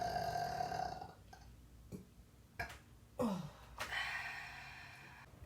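Loud, drawn-out burps during a soup mukbang after eating bread, several in a row with breathy pauses and throaty gasps between them, close to the microphone.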